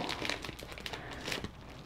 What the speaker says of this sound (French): je vais venir ajouter du papier bulle.